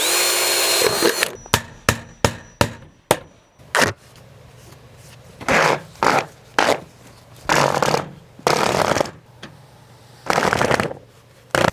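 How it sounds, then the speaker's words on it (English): Sharp, loud bursts of a power drill pre-drilling holes in metal flashing, several short runs separated by pauses, close up with no talking. "I do like to pre-drill the holes in this metal"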